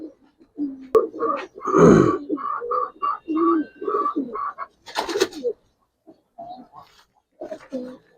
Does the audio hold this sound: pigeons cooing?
yes